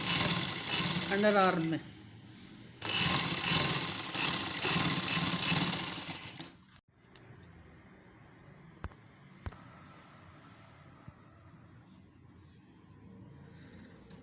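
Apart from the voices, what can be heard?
sewing machine stitching a double seam on a shirt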